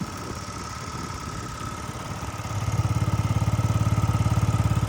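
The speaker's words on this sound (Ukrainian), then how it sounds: "Гарно, тихенько працює двигунчик" A Yamaha Jog SA36 fuel-injected scooter engine idles steadily close by, settling into an even, rapid putter that grows a bit louder and more regular halfway through.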